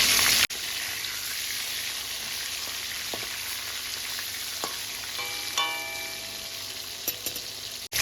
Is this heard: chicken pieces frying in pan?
yes